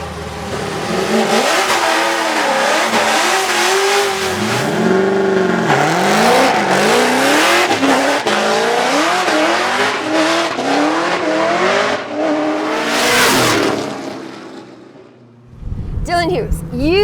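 A Formula Drift car accelerating hard down a drag strip in a skills battle, engine revving loudly and climbing through gears with repeated rising pitch sweeps before cutting off near the end.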